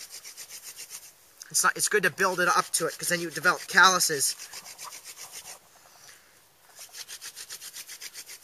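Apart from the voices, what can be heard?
wooden hand drill spinning for fire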